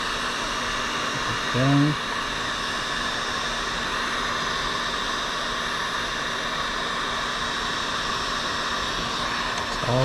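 A thermal air circulator blows a steady hot-air roar to heat an iPad for dismantling, a constant broadband rush with a faint hum running the whole time, and a short spoken word near the start.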